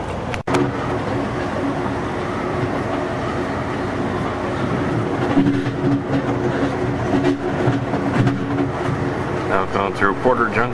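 Amtrak's Capitol Limited passenger train passes Porter Junction, heard from on board as a continuous loud rumble with intermittent rail clatter and clicks throughout.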